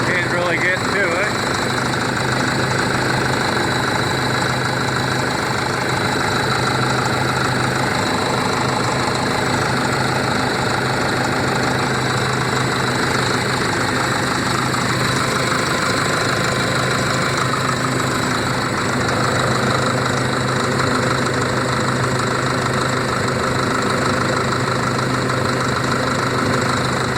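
A Volvo D7E diesel engine on an overheating truck idles continuously and close by, a steady, loud, low rumbling drone with a faint knocking texture that never lets up.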